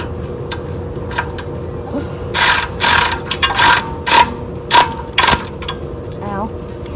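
A wrench clicks while bolting parts onto an old Wheel Horse tractor, giving short bursts of loud ratcheting close by, about six or seven runs in all, over a low steady background hum.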